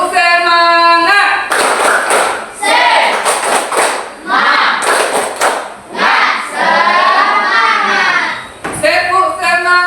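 A primary-school class claps and shouts a rhythmic 'tepuk semangat' chant together, bursts of children's voices alternating with sharp clap patterns, loud and close, with a teacher's voice at the start and end.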